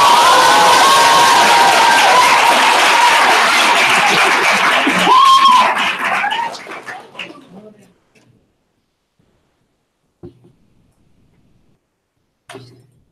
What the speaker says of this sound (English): please give a big round of applause for Claire, Rachel, and Hannah